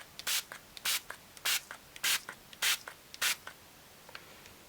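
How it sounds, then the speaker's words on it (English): Varnish sprayed from about 20 to 25 centimeters over an alcohol ink painting, six short hissing bursts in a steady rhythm, close and fairly quiet, with faint rubbing between them. "I'm just going to spray that over there."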